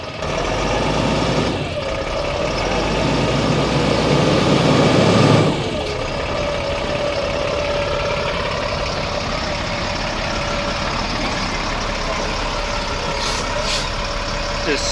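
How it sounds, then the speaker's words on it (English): A 2.5-ton military truck on 53-inch tires spins its wheels off-road, producing a loud, close engine roar that swells for a few seconds and then settles to a steady idle. "Just spinning those 53s right now."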